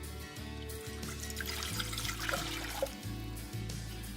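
Three cups of water run steadily into a pot, a continuous splashing pour with a low hum underneath, no voices.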